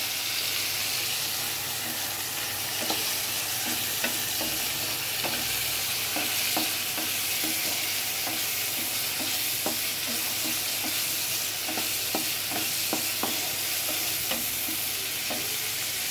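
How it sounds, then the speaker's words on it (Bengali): Onions fry in a pan for a beef kofta curry, a steady hiss of sizzling oil running throughout with repeated scraping taps of a spoon stirring, close and clear with no talk. "পেঁয়াজটা একটু ভাজা ভাজা হচ্ছে।"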